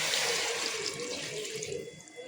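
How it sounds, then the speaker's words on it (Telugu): Water is poured into a pressure cooker of chicken biryani, a steady splashing rush that fades slightly toward the end, with no talking. "వాటర్ అయితే యాడ్ చేసేస్తున్నా."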